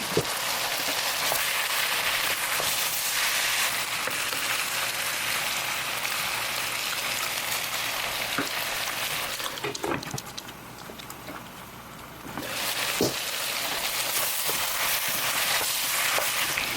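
Jalapeños and green onion cook in a covered stir-fry pan, giving a loud, steady, rain-like sizzle that dips briefly partway through, then returns at full strength.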